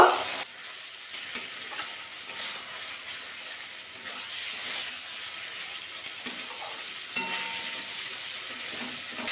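Fried pointed gourd pieces stirred into oily masala with cashews in a wok: a steady, soft sizzle with scraping and clattering from the stirring, heard alone with no talk.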